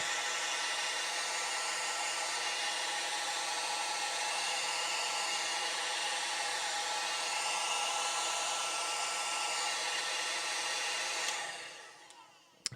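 A hair dryer blows hot air over freshly contrast-painted miniature spiders, a steady loud whoosh that runs unbroken for about eleven seconds before switching off.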